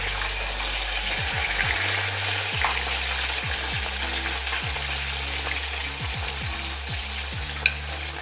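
Steady, loud crackling sizzle of pork deep frying in hot oil for sweet and sour pork, a constant bubbling hiss with occasional sharp pops.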